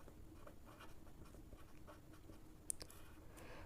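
Quiet scratching of a pen writing on paper during a maths lesson, with faint irregular strokes over a low background hum and one sharp small click near the end.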